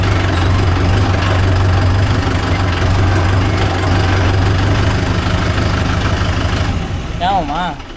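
A Mahindra Yuvo Tech Plus 585 4WD shuttle-gear tractor pulling a 42-blade rotavator runs with a loud, steady low diesel drone close by, with a brief voice toward the end.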